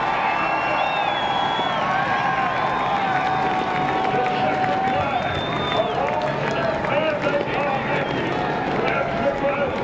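Grandstand crowd at the 2014 NASCAR Sprint Cup Bank of America 500 at Charlotte cheering and whooping as Kevin Harvick celebrates, a loud continuous roar with scattered shouts and whistles, voices audible through it.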